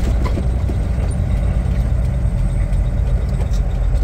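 Semi truck rolling slowly through a trailer lot, a steady low diesel rumble at close range with no talk over it.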